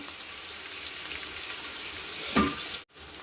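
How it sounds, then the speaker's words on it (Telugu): Onion pieces fry over a high flame, a soft, steady sizzle with a short stirring clatter near the end and a brief cutout just after. "ఇలా మంచిగా ఒక పది నిమిషాల దాకా పెద్ద మంట మీద పెట్టుకుని ఈ ఉల్లిపాయ ముక్కలు మంచిగా మెత్తగా మగ్గించుకోవాలి"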